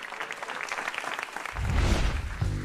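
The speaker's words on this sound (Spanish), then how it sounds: "Lo recibimos con un fuerte aplauso" Applause for a performer on a televised singing competition's knockout round, starting as scattered clapping and swelling into a loud, full crowd roar with music entering near the end.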